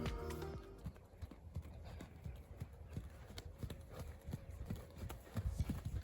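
Hooves of a ridden pony clip-clop in a steady rhythm at a home jumping exercise, close and fairly loud, with low rumbling thuds and no speech.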